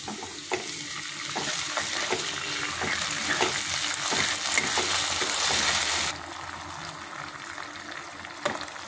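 Onion frying in a pan with tomato sauce and being stirred, a continuous close sizzle with regular scraping and tapping of a spoon, the hiss dropping to a softer level near the end.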